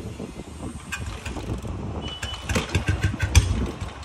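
A BS6 Bullet motorcycle engine starts and settles into a low, throbbing idle, with clicking mechanical rattles on top, steady and close throughout.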